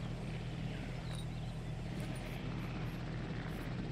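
Steady low rotor drone of a large helicopter transporting a dinosaur in the video game Jurassic World Evolution, constant engine rumble, continuous and fairly loud throughout, no talking.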